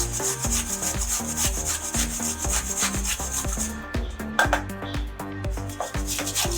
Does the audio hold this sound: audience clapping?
no